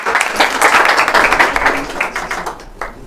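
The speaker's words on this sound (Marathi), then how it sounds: "जोरदार टाळ्या द्या" A classroom audience claps loudly and close for about three seconds, a dense burst of many hands that thins out and fades near the end.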